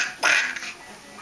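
A single short quack-like call, a person's voice imitating a duck, loud and close.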